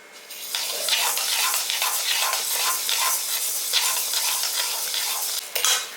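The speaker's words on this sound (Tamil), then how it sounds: "கைவிடாமல் வறுக்கணும், இல்லைன்னா இப்போ லேசாக கருப்பாயிரும்." Lentils (paruppu) dry roasting on low heat in a pan with rock salt, stirred continuously, giving a dense, bright rustling scrape that stays close and steady for several seconds with no voices.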